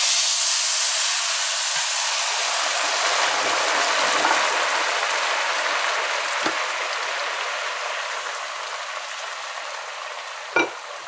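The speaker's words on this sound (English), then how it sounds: "Now you're adding hot water." Hot water poured into rice frying in a pan gives a loud, steady steaming hiss that fades slowly across the span, with a couple of faint clinks near the end.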